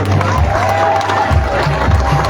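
A large outdoor crowd at an official ceremony in Makokou applauds and cheers for a champion, a dense, loud roar of clapping and shouts with low rumbling voices beneath it.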